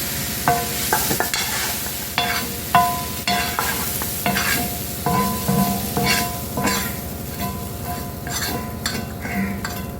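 An egg layer chapati cooks in a pan, giving a steady close sizzle and frying crackle with scattered scraping and light clinks of a utensil against the pan. No one speaks.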